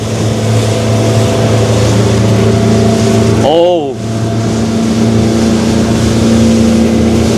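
A loud, steady engine on a Daehan Marine F5 fishing boat drones throughout, with a brief dip and wavering pitch partway through a sharp turn before the roar resumes.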